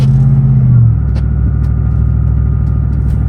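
A 2005 supercharged Chevrolet SSR, tuned to over 514 horsepower, drives off with a loud, close engine rumble; a higher droning tone drops away after the first second into a steady, deep, throbbing idle-like growl.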